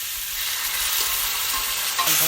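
Knolkhol and potatoes frying in a pan for an Assamese curry, a steady close hiss and sizzle with faint stirring scrapes running throughout, no voices.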